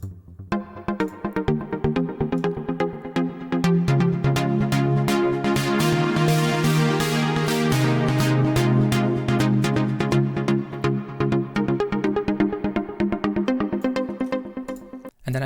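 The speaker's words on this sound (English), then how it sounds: "I also like automated the cutoff of the sound" A synth sound whose automated filter cutoff gradually opens, with sustained chords and rhythmic hits growing brighter toward the middle, loud and continuous in a music production remix setting.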